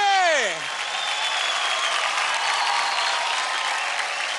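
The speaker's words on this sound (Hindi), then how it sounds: "जोरदार ताली हो जाए राजा स्मिता के लिए।" A studio audience at a Dance India Dance stage show breaks into loud sustained applause, filling the space evenly, as a voice trails off at the start.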